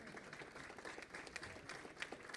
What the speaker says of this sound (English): Give him another round of applause, please.